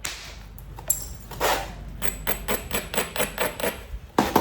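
Georgia chert is worked by flintknapping, with a series of sharp, close strikes and scraping taps on a stone spall, coming roughly twice a second with short pauses and no talk.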